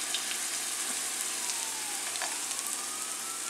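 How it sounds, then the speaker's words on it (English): Steady, crackling sizzle of Peruvian torrejas frying in hot oil in a pan, two or three at a time, close and continuous, with a faint siren wailing in the distance. "Now I'm going to fry probably 2 or 3 at a time depending on how space permits"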